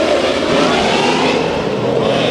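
Race car engines roaring together at a restart at Santa Maria Speedway, a loud continuous broadband drone from a close pack of cars with no letup.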